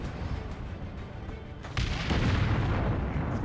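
Looter tank shot in Dawn of War 2 destroying a tank: a heavy boom lands midway through the clip, followed by sustained rumbling battle noise.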